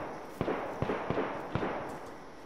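Gunshots in the DayZ video game: five or six distant, evenly spaced pops over a steady background hiss, with no talking.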